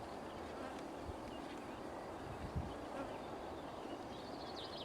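Honeybees buzz steadily around an open hive during a brood inspection, a dense, continuous drone close by with no talking.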